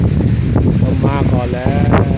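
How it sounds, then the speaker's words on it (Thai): Strong wind gusts buffeting a rice field during harvest ahead of a storm, loud and steady with rough low rumbling across the microphone, while a voice talks over it. "โอ้ยลม"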